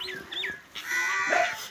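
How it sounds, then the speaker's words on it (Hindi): A male goat bleats at close range, giving a few short, wavering cries in quick succession at moderate loudness, with no talk over them. "एक माशाल्लाह ये बकरा है"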